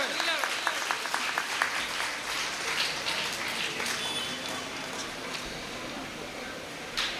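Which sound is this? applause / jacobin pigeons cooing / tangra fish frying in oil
applause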